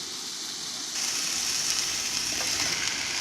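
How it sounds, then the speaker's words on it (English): Potatoes and carrots sauté in a hot pan, giving a steady close sizzle and hiss that grows louder after the first second, with faint stirring scrapes through it. "Potatoes and carrots first. Going to saute them for a little bit."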